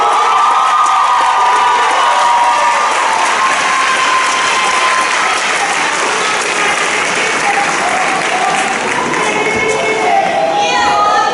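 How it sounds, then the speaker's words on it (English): Loud, sustained applause and cheering from a large graduation crowd honoring the salutatorian, with whoops and shouts rising over steady clapping throughout. "Please give a warm round of applause for our salutatorian, Ms. Diabion Reed."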